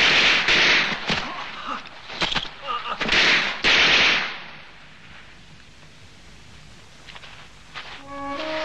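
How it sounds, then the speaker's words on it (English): Gunfire in a war film scene: dense bursts of loud, cracking shots and blasts over the first four seconds, then fading into quieter scene ambience with a faint tone near the end. "Shoot, Billy! Shoot!"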